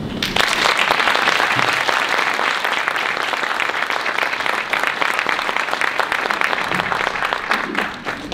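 Audience at a sound and audio storytelling conference breaks into steady, loud applause, dense clapping sustained throughout with a faint crowd murmur underneath and no speech.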